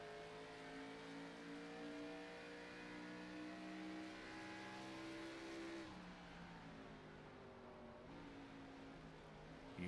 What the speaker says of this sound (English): You hear him downshift to third.